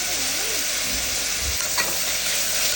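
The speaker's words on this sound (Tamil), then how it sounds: "இப்போ இஞ்சி பூண்டு பேஸ்ட்டு அரைச்சி சேர்த்துக்கலாம்." Onion and ginger-garlic paste fry in oil in a pressure cooker with a dense, continuous close sizzle, while a spoon stirs and scrapes through it.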